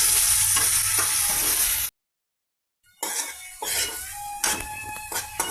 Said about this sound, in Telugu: ఈ కాలీఫ్లవర్ని ఫ్రై చేద్దామండి